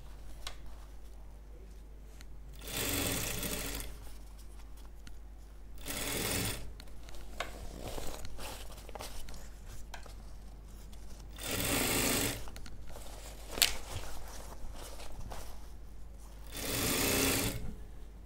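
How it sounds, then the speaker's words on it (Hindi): Sewing machine stitching a folding travel bag, running in several loud close bursts separated by quieter pauses of handling, with no talking. "आगे सिलाई करेंगे।"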